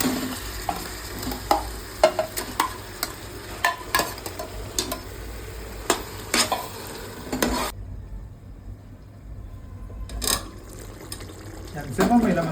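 Chicken pieces frying and being stirred with tomatoes in a pressure cooker, a steady loud sizzle broken by repeated scraping stirs, briefly quieting before the sizzling returns.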